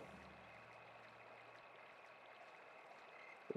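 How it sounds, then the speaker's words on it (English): A quiet stream flows in the video game Yomawari: Midnight Shadows, a soft continuous trickle with a faint steady hum beneath it and a sudden louder sound at the very end. "This water is just so peaceful, so calming."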